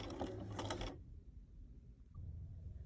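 A sewing machine stitching the rolled hem of a child's skirt gives a short rapid mechanical burst of about a second, then near quiet with only low background hum.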